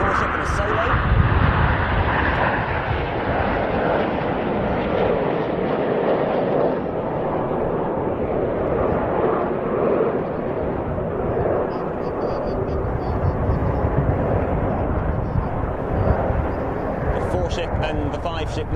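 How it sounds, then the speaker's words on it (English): A formation of display aircraft passes at an air show with a loud, continuous jet roar that swells and slowly fades, while a voice talks over it. "And the 5-ship now converging on each other for the first of several spectacular 9 aircraft crossovers"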